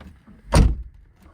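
A single solid thud of a restomod Lotus Elan's driver's door shutting, close by, with quiet background before and after.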